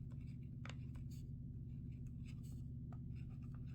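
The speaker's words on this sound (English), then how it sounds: "I'm gonna write that question down." Pen scratching out a question in a journal, faint soft strokes in short bursts over a steady low hum, nearby and quiet with no talking.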